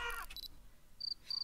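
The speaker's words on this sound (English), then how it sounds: "Crickets." Short high chirps from crickets in the video game We Become What We Behold, two brief bursts in the second half after a louder opening blip.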